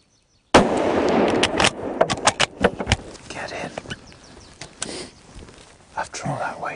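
A hunting rifle fires at a roebuck in a German forest, a single sharp report near the start followed by rustling, clicks and faint whispered talk.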